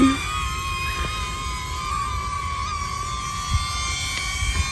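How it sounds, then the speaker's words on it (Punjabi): A small camera drone flies nearby outdoors, giving a steady high-pitched whine of spinning propellers with a few sustained tones, fairly loud and unbroken throughout. "ਡਰੋਨ ਨਾਲ ਭਜਾਣੇ"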